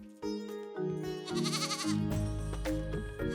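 A goat bleats loudly and close up in a few wavering cries, with no talking.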